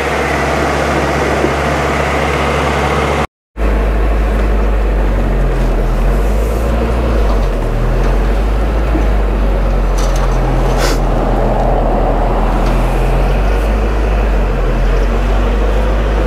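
A 1980 Chevy LUV 4x4 pickup drives slowly with no brakes, its engine a loud, steady low rumble with broadband road noise. After a brief dropout the rumble continues, with light rattles over it.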